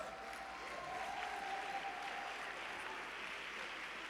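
An alumni event audience applauds steadily for about four seconds, a dense, even wash of clapping from a moderately distant crowd with no standout voices.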